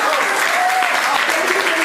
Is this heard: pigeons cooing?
no